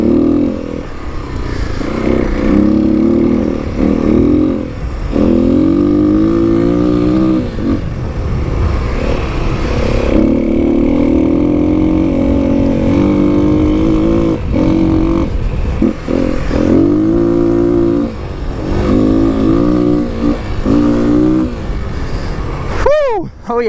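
Kawasaki KLX300 dirt bike riding a loose desert trail over whoops, its engine droning and revving steadily close up with wind rush and clattering suspension throughout, someone talking over it in places.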